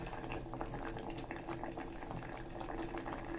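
Pumpkin mushroom soup boiling in a pot, a continuous close bubbling and gurgling that stays even and fairly quiet throughout, with no talking.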